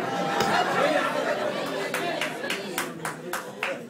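Guests at a civil wedding ceremony break into a few sharp, rhythmic claps over a steady murmur of crowd chatter in a reverberant hall.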